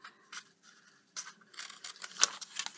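Scissors snip through a cardboard box template in a few short, quiet cuts with small rustles of the card between them, close and alone.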